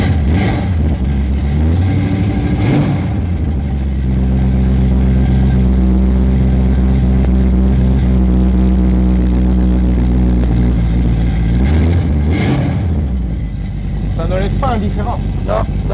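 A Chevrolet Silverado's engine turns over and fires, settling into a rumbling idle before being revved a couple of times, loud and close, with people talking in French nearby.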